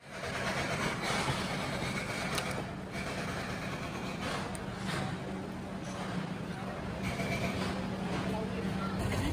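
A train at Haridwar railway junction station, with a steady heavy rumble and broadband platform noise throughout, a few sharper clanks standing out over faint background voices.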